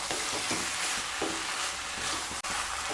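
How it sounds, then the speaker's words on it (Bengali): A spatula mixes pui mitholi, a Bengali malabar spinach dish dressed with raw mustard oil, in a pan, giving a dense steady sizzle with soft scraping strokes and a brief dropout. "এইভাবে খুন্তি দিয়ে একটু মিশিয়ে নিতে হবে।"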